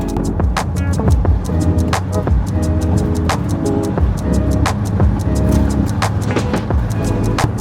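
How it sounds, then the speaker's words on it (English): Mercedes GLC 250D diesel SUV accelerating hard in Sport Plus mode to overtake, a steady low engine drone and road rumble heard from inside the cabin, punctuated by regular sharp ticks or thumps, loud and continuous. "we're gonna just shift it up into Sport Plus. Let's just overtake this, drop one gear"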